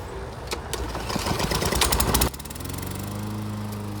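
A small pull-start engine sputters and catches, then settles into a steady, close droning idle.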